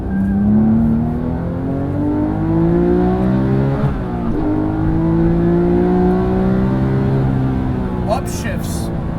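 A Porsche 997 GT3 RS 4.0 pulls hard from close by, its engine note rising, cutting sharply at an upshift midway, then climbing again. A voice talks over the engine.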